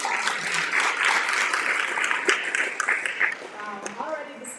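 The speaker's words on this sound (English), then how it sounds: "just give all of our speakers a round of applause?" An audience at a county parent summit applauds its speakers, a dense burst of clapping that swells and then thins out, with voices mixed in near the end.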